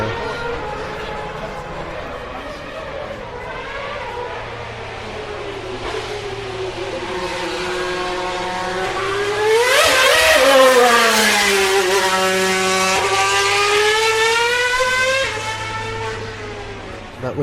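A Mercedes W2 Formula 1 car approaches with a climbing engine whine, sweeps past loudly near the middle with a pitch drop, then pulls away upshifting, over a low steady background hum.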